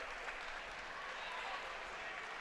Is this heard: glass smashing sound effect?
no